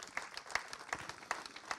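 Short burst of audience applause at a town's New Year wishes ceremony, scattered claps from a modest crowd in a hall, fairly faint and uneven.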